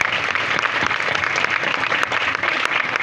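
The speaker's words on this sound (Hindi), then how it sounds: "जोरदार उस खुदावंत के लिए एक बार हम ताली बजाकर उसका स्वागत करेंगे" Church congregation at a Bible study gathering clapping together in welcome, a dense, even roar of many hands sustained throughout, moderately close.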